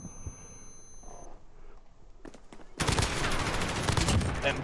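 Gunshots from a 5v5 tournament match in a video game: a few scattered shots early, then a loud, dense burst of sustained firing over the final seconds, with commentary running underneath.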